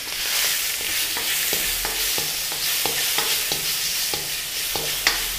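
Turmeric-and-salt marinated prawns sauté in a tablespoon of oil, a steady loud sizzle broken by regular scraping strokes of a spatula about every third of a second, close up with no talking.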